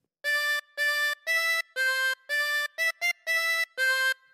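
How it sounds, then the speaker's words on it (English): Harmonica playing the fifth phrase of Ode to Joy: nine distinct reedy notes in steady rhythm, including two short quick notes near the end, close, clean and solo. "Then practice this until you end up with something that sounds like this."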